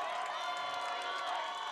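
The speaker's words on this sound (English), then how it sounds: "Crowd has gotten loud here." A crowd cheers at a high school football game between Campolindo and Rancho Cotate, a dense, distant, continuous roar with shouts at low level and no clear talk.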